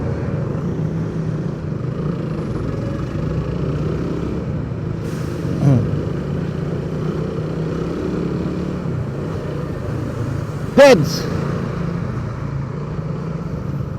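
Motorcycles weave through traffic, squeezing along the road edge on a late-night ride, a steady engine drone close by with two brief harsher bursts, one joined by a short shout.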